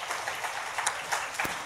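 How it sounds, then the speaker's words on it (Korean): A church congregation at a Sunday worship service claps briefly and softly for newly registered members, with scattered hand claps at a distance and a few louder claps standing out. "자, 우리 박수 한번 하겠습니다."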